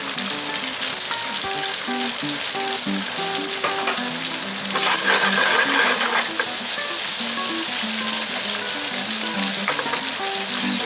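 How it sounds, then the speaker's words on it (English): Argentine red shrimp sautéing in a pan over a high flame, giving a loud, steady, close sizzle that runs the whole time, with faint music underneath. "First step, just saute it."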